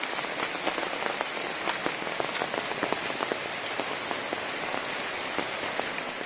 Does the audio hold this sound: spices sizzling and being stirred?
no